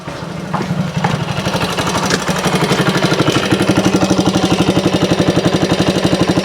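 A 1964 Honda CT90 engine idles close by with a fast, even putter, its steady pulsing rhythm running throughout with a few faint clinks of tools near the start.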